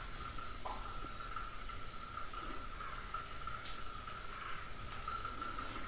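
Masala with turmeric and chilli powder sautés in hot oil for a Tamil-style prawn thokku, giving off a faint, steady sizzling hiss throughout.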